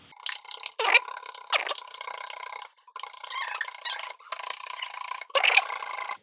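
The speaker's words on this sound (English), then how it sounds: "What we're doing is incorporating air into the egg whites" Egg whites whisked by hand for eggnog make a fast, continuous wet scraping rattle in several bursts with brief pauses between them, close and fairly quiet.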